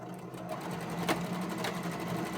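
Stitching along the side of a cloth face mask, a sewing machine whirs steadily up close, a short continuous run of motor drone and needle chatter with a couple of faint clicks.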